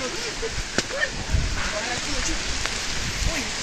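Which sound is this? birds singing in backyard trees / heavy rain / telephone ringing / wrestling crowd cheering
heavy rain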